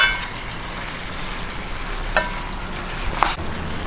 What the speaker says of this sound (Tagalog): haluin lang po natin at atin po itong tatakipan hanggang sa lumabas po talaga yung katas ng chicken